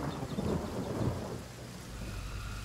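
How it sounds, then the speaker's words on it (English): Thunderstorm in the fantasy role-playing game Divinity: Original Sin, a low rolling rumble of thunder over a steady hiss of falling rain, no voices present. "Thunderstorm."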